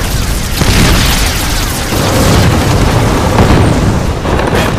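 Heavy booming explosions and shell bursts from a night tank battle between a Japanese Ha-Go and a U.S. Sherman roll on continuously, loud and close, with repeated blasts layered over one another.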